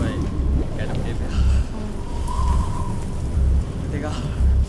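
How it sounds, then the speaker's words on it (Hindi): Steady rain falls outside a house, a constant broadband hiss with recurring low thumps, heard from near a doorway with no clear speech. "देखा बारिश हो रही है, कैन आई कम इनसाइड?"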